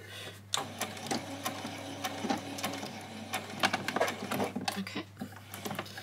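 A sewing machine back stitching a doll's dress gives brief, quiet bursts of rapid stitching ticks with short pauses between, heard up close.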